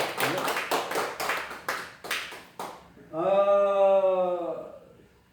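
A congregation in a church service claps in a steady rhythmic beat for a few seconds, and a long, sustained voice rings out alone as the clapping stops.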